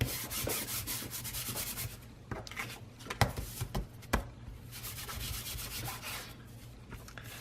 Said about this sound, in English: I'm just going to rub over the top of my scrap pieces of cardstock here